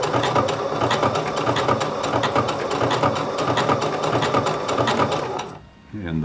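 A sewing machine stitches fabric for a pair of shorts in a fast, even run of needle strokes, then slows and stops near the end with a brief whirring wind-down.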